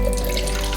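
Melted soy wax pours into a candle mould in a steady, close liquid stream with a low hum underneath, lasting under a second.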